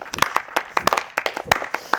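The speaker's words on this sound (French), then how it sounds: "On peut t'applaudir" A game show audience claps in scattered, uneven bursts for a candidate. The applause is fairly light and brief, with separate hand claps rather than a full ovation.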